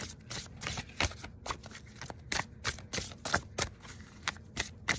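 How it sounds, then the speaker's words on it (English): Tarot cards are shuffled and drawn close up in a rapid, irregular run of crisp riffling and slapping bursts that continues steadily for several seconds, with no voices. "I'm going to pull a couple of more cards."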